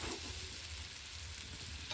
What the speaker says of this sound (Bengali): এই ফুলকপির তরকারিটা কষাচ্ছি, আলু ফুলকপিটা ভালো করে কষিয়ে